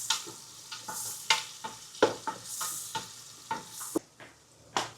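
Onions frying in a pan for papaitan, a close steady sizzle broken by repeated sharp scrapes and knocks of a spoon stirring, loud and without talk.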